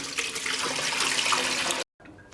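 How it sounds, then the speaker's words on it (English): Homemade mulberry wine strained and poured into a bottle, a steady close splashing liquid pour for nearly two seconds that stops abruptly, followed by faint quiet. "I'm going to strain it off and put it into a bottle"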